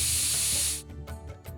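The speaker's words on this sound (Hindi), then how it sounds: "अभी कुकर की 1 सीटी आ गई है तो हम गैस को बंद कर देंगे" Pressure cooker whistle letting off steam on a kitchen stove, a loud sustained hiss that cuts off abruptly after under a second, followed by quieter clattering and rattling nearby.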